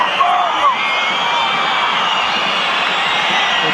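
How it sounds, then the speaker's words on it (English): A home football crowd fills a stadium at a World Cup qualifier between Uruguay and Australia with a steady, dense roar of cheering and chanting. A few brief whistles or shouts rise above it. "the home fans trying to get behind the team"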